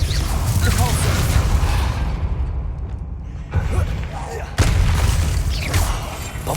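Spell blasts in a Harry Potter video game: dense, loud booming explosions and whooshing bursts in quick succession, with a brief lull midway, mixed with a voice.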